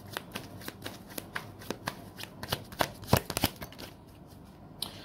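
Tarot cards being shuffled by hand, a quick series of crisp riffling flicks and snaps with a denser burst near the end, close and fairly quiet with no talking.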